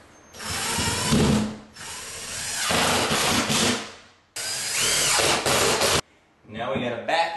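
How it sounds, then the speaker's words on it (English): A power drill driving screws into wooden backing behind a drywall hole patch, several loud close whirring bursts of a few seconds each, separated by brief pauses and ending in shorter spurts. "And screw it in."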